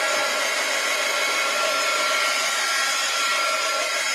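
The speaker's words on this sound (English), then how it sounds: "Now, let me dry it just a little" A hair dryer blows steadily on a piece of artwork, giving a constant close whirring hiss throughout with no talking.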